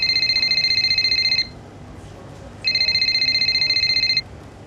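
A phone ringing in the racing game F1 25: two bursts of a bright electronic ringtone, clear and close, with a short pause between them over a low steady background hum.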